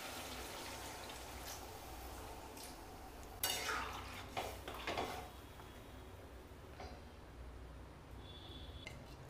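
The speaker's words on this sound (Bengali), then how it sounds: "এটা মশলার সঙ্গে মিশে যাওয়ার জন্য সামান্য একটু জল দিয়ে দেব" A small splash of water goes into a pan of boiled potatoes mixed with spices for chilli potato. It comes as faint, short pours with a few soft pan knocks against a quiet kitchen background.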